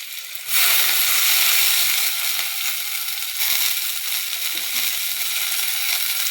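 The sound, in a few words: washed greens added into hot oil, sizzling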